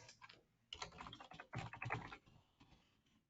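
Rapid keystrokes on a computer keyboard while entering text in an Excel spreadsheet, a quiet, busy run of clicks filling the short stretch with no talking.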